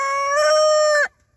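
A Swedish Flower Hen rooster free-ranging outdoors gives one loud, close crow lasting about a second. It holds a strong sustained note, then cuts off into quiet.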